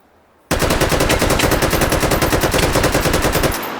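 AK rifle in Call of Duty: Black Ops firing one sustained fully automatic burst, loud and close, rapid even shots for about three seconds before stopping abruptly with a short decaying tail.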